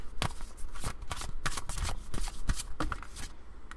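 Tarot cards being shuffled by hand, a steady run of close, crisp riffling snaps and soft slaps repeating at a quick, uneven rhythm, with no talking.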